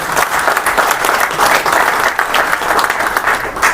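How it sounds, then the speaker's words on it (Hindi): Loud, dense applause fills a hall at an MSME Day event held by the Indian Industries Association's Ghaziabad chapter, with steady clapping from a large audience throughout and no speech. "तो एक बार जोरदार तालियां।"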